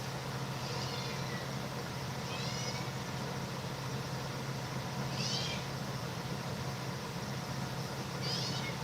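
A cat meows a few times at intervals, short rising calls over a steady low hum of background noise.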